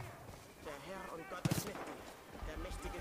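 Gunfire in the Far Cry 5 video game cracks out as a short, quick burst of shots in the middle, set among players talking over quiet game sound.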